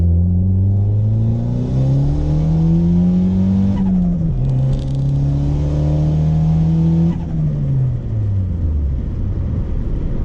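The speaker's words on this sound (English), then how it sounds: "Let's see if we can do a little second gear pull here. Slow it down. This time I'm going to floor it." Turbocharged Honda Accord floored in second gear, engine roaring loud and close as revs climb steadily, a brief dip at a shift or lift midway, then climbing again before easing off near the end.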